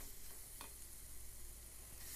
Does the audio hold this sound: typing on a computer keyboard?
no